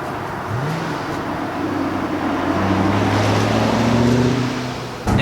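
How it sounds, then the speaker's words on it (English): The V8 exhaust of a 2008 Ford Mustang Shelby GT500 drones deeply and steadily under rushing wind noise, rising slightly in pitch and holding a low throaty tone throughout. "The exhaust note from the back sounds absolutely"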